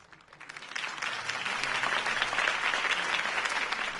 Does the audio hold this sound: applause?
yes